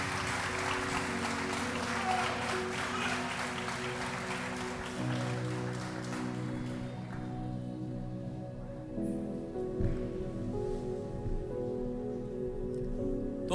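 A church congregation at a baptism service applauds, sustained dense clapping for several seconds that fades out, leaving a low droning hum and faint room noise.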